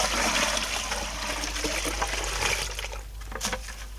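Water poured from a bucket to rinse Osage orange seed: a continuous, close splashing pour that thins toward the end into trickles and a few drips.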